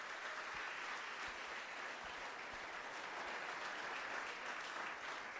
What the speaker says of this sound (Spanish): Vamos ahora sí todos a darle un aplauso al Señor